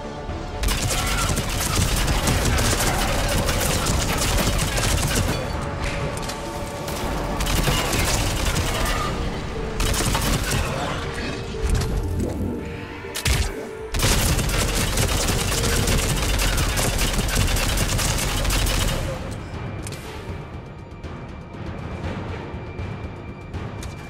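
Sustained automatic gunfire and explosive booms fill a Mass Effect 3 firefight, loud and dense bursts rolling almost continuously with a brief lull midway.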